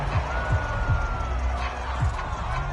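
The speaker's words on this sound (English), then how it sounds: "Plenty of shouts from this crowd as they watch the replay." A football stadium crowd during an NFL replay review fills the space with a loud, continuous roar of shouting and cheering, with a few brief thumps and no clear commentary over it.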